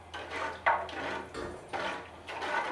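Long wooden spoon stirring sugar syrup in a kettle, making continuous scraping and sloshing strokes with a soft knock at the pot, close and moderately loud with no talk.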